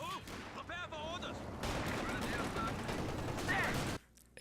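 Machine gun fire in Company of Heroes 2 crackles in bursts over a dense battle din, with whistling shells and a commentator talking over it, before cutting out abruptly near the end.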